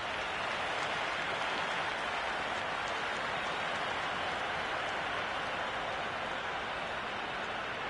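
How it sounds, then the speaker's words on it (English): Broad, steady crowd roar with applause from cricket spectators in the Cricket 26 video game, a dense continuous wash of cheering and clapping that holds at an even level throughout without a clear break. "all these spectators here today are completely enthralled and energised, judging by that noise anyway"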